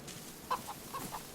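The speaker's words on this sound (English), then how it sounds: "Oh, chickens." Chickens clucking in the video game DayZ, a few short, soft clucks spaced apart over a quiet ambient background.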